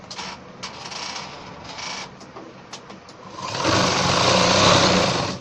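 Sewing machine stitching the side seam of ladies' pants, with short bursts of whirring and clicks at first, then a louder continuous run of stitching toward the end, close by.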